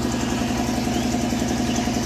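An engine runs beside a well at the edge of a maize field, giving a steady, loud, close drone with an even idling throb throughout and no talk.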